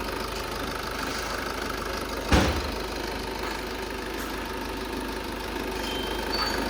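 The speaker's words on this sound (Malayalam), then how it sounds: "ഇതാണ് ഇപ്പോൾ എൻജിൻ സൗണ്ട് കറക്റ്റ് പക്ക നോർമൽ" A Maruti Ciaz engine idles steadily after engine work, a smooth low hum close by with a single brief knock or thump partway through.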